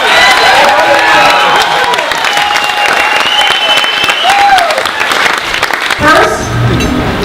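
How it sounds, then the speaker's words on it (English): Audience applause after a call to celebrate a man's birthday at a gathering, sustained clapping with some cheering filling the room for several seconds. "So let's just give a round of applause for Larry being alive."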